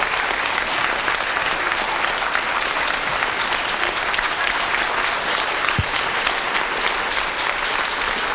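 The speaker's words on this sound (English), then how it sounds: "Let's give a big round of applause for Dr. Cornel West" An audience applauds Dr. Cornel West at a lecture event, a dense, steady wash of clapping from a large crowd that holds loud and even from start to finish.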